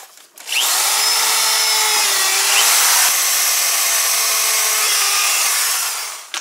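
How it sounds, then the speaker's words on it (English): A high-speed drill whines continuously at full power for several seconds, close and loud, biting into a rubbery snowmobile track before spinning down. "It has to be a high-speed drill to get the burning action."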